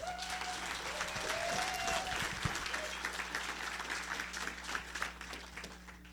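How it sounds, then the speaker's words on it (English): Audience applause at a community talk event in Wichita, a steady wash of clapping from a seated crowd filling the room, with a low hum beneath and a few voices over it. "A round of applause for Suzy, please"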